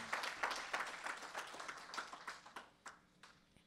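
Audience applause at a hacker conference talk, a crowd clapping steadily with dense scattered claps that thin out and fade toward the end.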